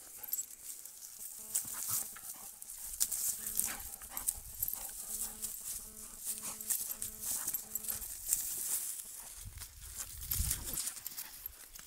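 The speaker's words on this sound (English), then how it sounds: "Puppy." A puppy scuffles and plays beside an adult dog, giving soft, close patters, thumps and small yelps at low volume, with people talking nearby.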